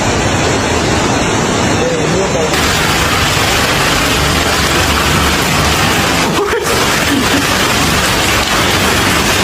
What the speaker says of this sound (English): As the rain kept pounding